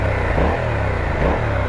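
A Yamaha MT-07 Tracer 700 with a 689 cc twin-cylinder engine runs close by, its exhaust giving a steady, loud, throbbing rumble with slight rises in revs.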